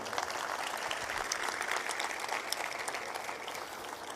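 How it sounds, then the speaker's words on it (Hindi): Steady applause from a large church congregation, dense clapping sustained at an even level throughout, no voices standing out. "जोरदार ताली बजाएं।"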